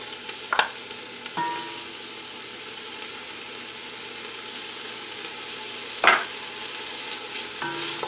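Onions and garlic cooking in a pan for pork menudo give a soft, steady sizzle, with a few sharp clatters of a utensil stirring against the pan.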